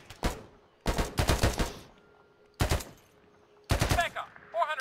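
Bursts of automatic gunfire in the military shooter ArmA 3 come in sharp, rapid clusters of shots with quiet gaps between them, loud and close, with a voice briefly in the mix.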